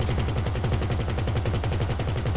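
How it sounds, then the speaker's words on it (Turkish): Rapid explosive-round gunfire in GTA 5, a dense, continuous burst of fast repeating shots at steady loudness with no talk over it. "Bunlar da patlayıcı mermidir herhalde."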